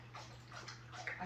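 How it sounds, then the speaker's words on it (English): A pet dog makes soft whimpering, yipping sounds indoors over a steady electrical hum, faint and intermittent across a short stretch with no talking. "You're hearing my dog."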